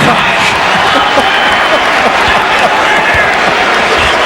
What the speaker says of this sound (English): The Knicks fans are starting to cheer for Kobe now.